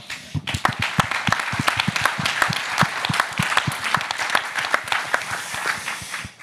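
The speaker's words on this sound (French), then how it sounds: "Moi, je propose qu'on vous applaudisse, parce que voilà." Audience applause at a French economic debate on decarbonisation, a near, dense burst of many hands clapping that swells and continues steadily for several seconds without talk.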